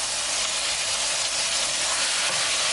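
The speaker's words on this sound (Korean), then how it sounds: "센 불에 춘장을 볶아줘요" Chunjang black bean paste stir-frying in oil over high heat, a steady loud sizzle and hiss that holds evenly throughout with no talk.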